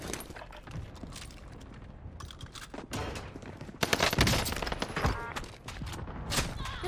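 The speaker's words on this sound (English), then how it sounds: "Guns go burr." Rapid gunfire bursts crackle throughout a Call of Duty Warzone match on Rebirth Island, loud and dense, with a heavier volley near the four-second mark and scattered shots around it.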